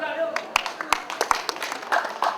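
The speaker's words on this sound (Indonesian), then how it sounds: "Kenapa tepuk tangannya kurang?" Scattered, sparse audience clapping at a DPD RI visit in Banda, a few sharp claps standing out over someone talking throughout.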